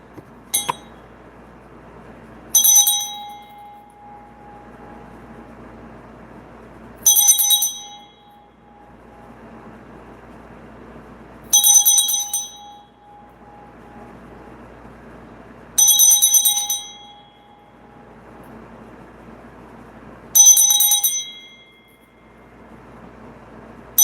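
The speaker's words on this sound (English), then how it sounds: "I'm going to ring the bell." A bell rings five times at regular intervals of about four seconds during a spiritual energy reading, each bright metallic strike ringing briefly over a quiet room, with no talking between strokes.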